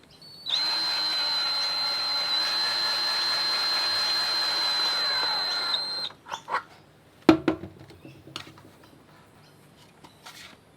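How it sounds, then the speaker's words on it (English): A power drill driving an Allen key whirs steadily for several seconds as it tightens a threaded fitting in a decoy head, then cuts off, followed by scattered clicks and clunks of handling nearby. "use an Allen key inside of the drill to slowly and steadily tighten the head"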